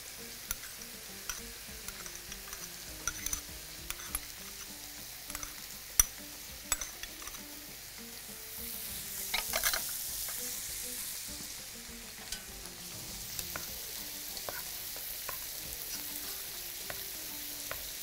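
Vegetables with beans and corn sauté in a pan, a soft continuous sizzle with scattered ticks of stirring against the pan, faint and close, swelling briefly midway.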